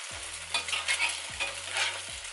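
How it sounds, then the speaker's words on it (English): Egg frying in a pan for an egg sandwich, a steady close hiss of sizzling fat with small crackles, plus a few low thuds from the pan being handled, no talking. "I'll fry the other egg."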